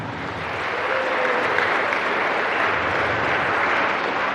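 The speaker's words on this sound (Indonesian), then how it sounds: "Tepuk tangan untuk kalian semua." A school assembly crowd claps steadily, a dense and even wash of applause that swells slightly and holds without talking.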